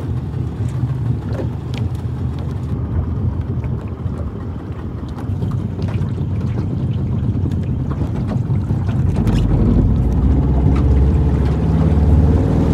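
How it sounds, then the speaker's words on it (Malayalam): A motorboat engine runs on open water during a fishing trip, a steady low rumble mixed with gusting wind that grows louder and fuller in the last few seconds. "ബേബീസൺ ബോട്ട് സ്റ്റാർട്ട് ചെയ്തിട്ടുണ്ട്"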